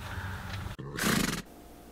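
A horse gives one loud neigh that rises and breaks off abruptly, heard close over a background murmur.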